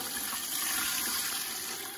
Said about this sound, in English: Now, clean, cool water.